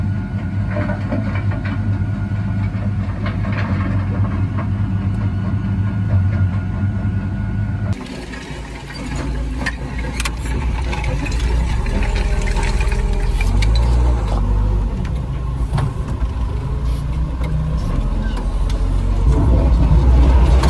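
A tractor-driven Herbst concrete crusher runs off the PTO at 1,000 rpm, just ticking over, giving a steady low engine drone with mechanical rattle that shifts and grows slightly louder partway through, with no talk.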